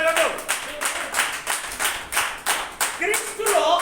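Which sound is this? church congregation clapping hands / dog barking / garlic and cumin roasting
church congregation clapping hands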